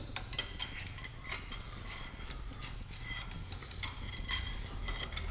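A ratcheting torque wrench tightens a bolt on a 351 Windsor engine build, giving quiet, irregular metallic clicks and ratchet ticks in short bursts over a low background rumble.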